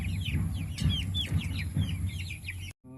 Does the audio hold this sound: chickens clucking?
yes